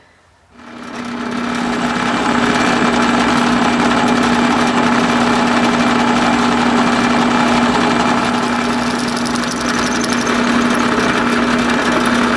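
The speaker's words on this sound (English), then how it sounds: "actually drill that through. We're going to start with a smaller bit." A power drill with a small bit whines continuously at a steady pitch through a metal steam engine cylinder after a brief quiet start, a sustained mechanical drone close by.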